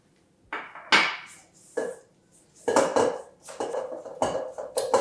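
Carrot and parsnip cake batter being mixed in a bowl, with distinct clinks and scrapes of a utensil against the dish in irregular bursts, close and clear with no talking.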